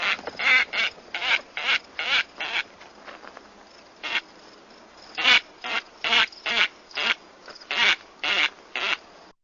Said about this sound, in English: And they make kind of a guttural honking noise.